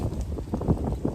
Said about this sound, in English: I'm sure you guys are gonna have a hard time hearing me through all the wind, but it is still very windy.